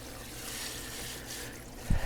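Water swirled around by hand in a sink filled with several gallons, a steady soft sloshing and churning close by, with a brief louder splash near the end.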